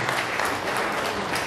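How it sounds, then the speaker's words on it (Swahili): Applause from a crowd at a memorial gathering in Kenya, continuous, loud and close, filling the whole short stretch without a break. "tupigie makofi"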